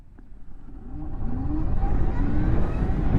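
A 2022 Zero FXE electric motorcycle at full throttle around 90 mph gives a rising electric whine over heavy wind rush that swells and holds loud.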